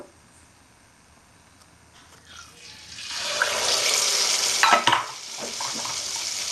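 After a near-silent start, lentil batter for dahi vada goes into hot oil in a wok and a loud, bubbling sizzle swells up and holds, with a few sharper splutters.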